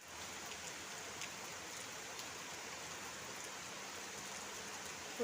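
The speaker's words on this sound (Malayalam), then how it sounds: "അപ്പോൾ ഇതാ നല്ലൊരു മഴ പെയ്യുന്നുണ്ട്." Rain falls in a steady, soft hiss, faint and distant with no distinct drops or voices.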